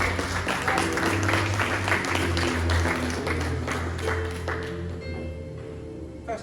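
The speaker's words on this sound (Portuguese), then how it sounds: "Pode ficar de pé, por gentileza, e aplauda ao Senhor." A standing church congregation applauds after a sermon with moderate, steady clapping over a low sustained organ or keyboard tone, tapering off toward the end.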